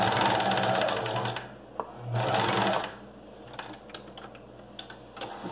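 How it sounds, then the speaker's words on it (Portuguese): Sewing machine stitching a vest pocket on a small stitch length, running in two loud bursts followed by quieter clicks and handling noises, with no one talking. "Eu uso um ponto pequeno da máquina."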